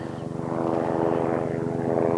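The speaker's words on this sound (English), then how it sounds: "Another helicopter." A helicopter flies over a valley in Nepal, its rotor thudding in a steady rapid beat under a loud engine drone that holds close and constant throughout.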